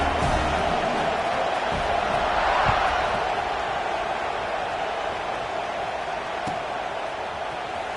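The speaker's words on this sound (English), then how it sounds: "this crowd is buzzing after that last score" A football stadium crowd sends up a steady, broad roar after a touchdown. The murmur is sustained and distant, with no clear peaks.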